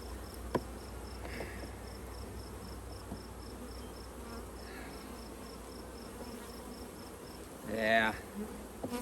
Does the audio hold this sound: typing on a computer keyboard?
no